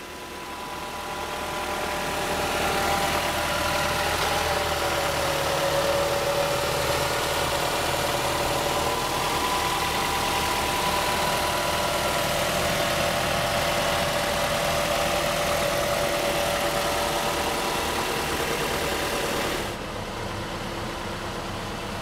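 A 2011 Mazda 5 with a 2.5-liter engine idles nearby, a smooth even hum with a faint whine, running continuously for about twenty seconds before dropping slightly in level.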